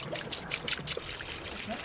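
Biodiesel poured by hand from a heavy container into a vehicle's fuel tank, a soft continuous liquid trickle with faint splashing, fairly close and steady throughout, with no talk over it.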